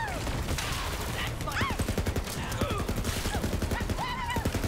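An AK-style gun fires in rapid bursts in Borderlands, sharp repeated shots with looping game sound effects around them, loud and steady throughout.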